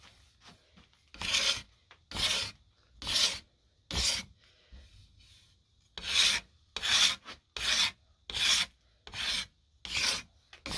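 Rasp strokes shaping a wooden Plumb axe handle, a series of about eleven loud, close, rhythmic scraping passes with short pauses between them, no talk.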